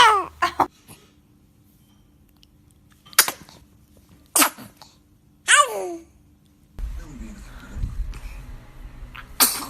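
A baby sneezes several times in short sharp bursts spaced a second or so apart, close and loud against a quiet room, with a high infant vocal sound at the start and soft background noise later.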